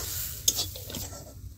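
Ginger and crushed cardamom stirred in a pan for a patishapta pitha filling, with a short scrape of the spoon and a quiet sizzle beneath, close and brief with no talking.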